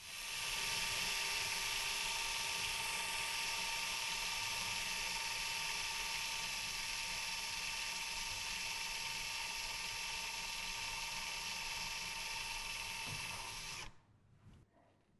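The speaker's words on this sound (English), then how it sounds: "Now let's try the same thing with a blunt drill bit." A blunt drill bit bores steadily into bone in a surgical skills lab, a loud continuous high whine with no break for about fourteen seconds before it stops abruptly and leaves faint noise.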